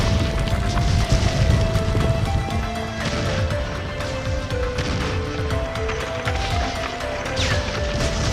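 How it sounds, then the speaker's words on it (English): A huge explosion tears apart a roof in an animated children's story, rendered as a loud, sustained rumbling crash with layered debris and booming impacts lasting several seconds. "there was a huge explosion and the roof was destroyed"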